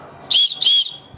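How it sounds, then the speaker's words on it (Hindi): The emergency whistle built into a 30L waterproof dry bag's strap gives two short, shrill, close blasts in quick succession against a quiet background. "यहाँ पर सीटी भी है"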